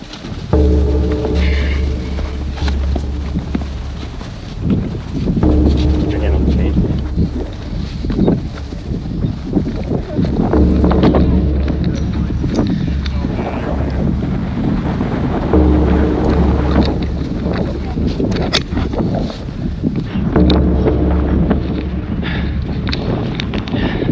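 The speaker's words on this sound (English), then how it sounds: "Wind is whipping up here now." Strong wind roaring and buffeting a microphone high on the exposed Angel's Landing trail in Zion, loud and continuous with gusting surges throughout and no voices.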